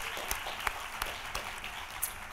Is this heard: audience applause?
yes